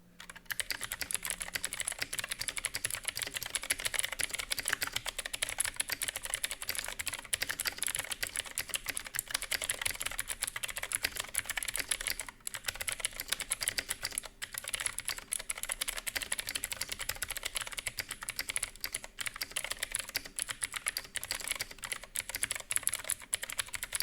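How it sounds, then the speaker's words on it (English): Rapid, continuous clicky typing on a Gamdias Hermes M5 mechanical keyboard with blue switches, sharp crisp key presses rattling nonstop for a long stretch at close range. "now I'll do a sound test of these Gamdias blue switches"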